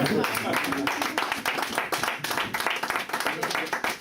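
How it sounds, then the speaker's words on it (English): Congregation clapping at church service, a dense run of rapid hand claps that stays loud throughout, with voices and speech mixed in under the claps. "y'all ain't clapping loud enough"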